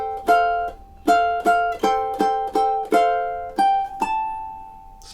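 Ukulele picking the fifth and sixth measures of a song, a run of bright plucked notes and chord strums in steady rhythm, close and clear with a final note left ringing, no talking.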